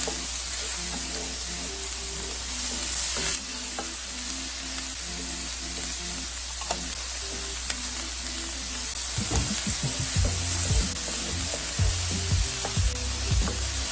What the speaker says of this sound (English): So what we want to do now is just mix those up, let them brown up, saute them